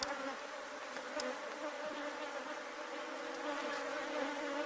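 Dense, steady buzzing of many bees swarming around hive boxes after rain, during a colony split, continuous and fairly close with no pauses.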